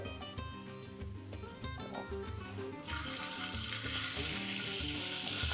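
Seasoned beef browns in a hot pan for Spanish-style paprika beef, a continuous close sizzle that swells louder midway, partly under background music.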